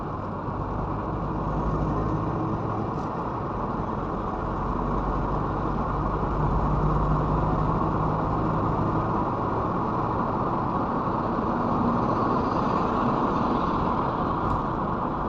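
Slow, congested traffic on the NLEX southbound lane with counterflow in place makes a continuous roadway drone of car and bus engines and tire rumble. It is steady and moderately loud, with no one speaking.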